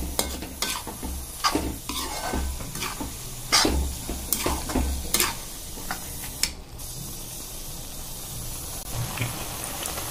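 Sugar is stirred into carrot halwa in a pan, a rhythmic run of scraping spoon strokes over a soft sizzle, the strokes thinning out toward the end.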